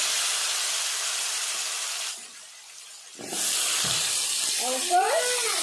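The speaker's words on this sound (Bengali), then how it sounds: "এবার সবজিগুলো আস্তে আস্তে করে ছেড়ে দিচ্ছি।" Papaya and potato pieces slide into hot oil in a home kitchen, bursting into a loud, steady sizzle that dips for a moment and then surges again, with a voice briefly speaking near the end.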